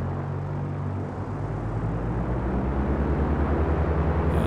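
Light aircraft engine at full throttle in Flight School, a steady loud droning roar that rises slightly as power comes in and then holds, with a low rhythmic propeller throb and no talking.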